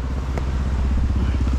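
Hard enduro motorcycle riding on a Greek mountain, its engine a steady low chugging drone with irregular throttle pulses, close and continuous throughout.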